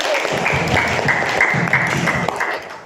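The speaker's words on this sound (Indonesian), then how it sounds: "Beri aplaus." A classroom of students claps together in a short burst of dense, lively applause that fades slightly at the end.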